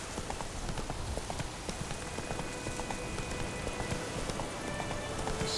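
Rain patters steadily in The Witcher 3 during a sun shower, a dense even hiss of drops with faint hoof-like clopping underneath and no speech.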